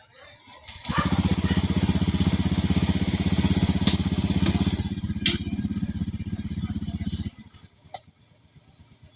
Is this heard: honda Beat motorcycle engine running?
yes